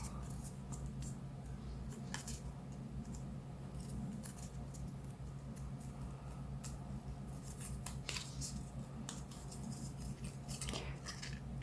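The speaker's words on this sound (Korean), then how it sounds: "눈사람 오려주세요." Scissors snip through paper while a paper snowman is cut out for a Christmas pop-up card, a steady run of soft, close crisp cuts over a low background hum, with no talk.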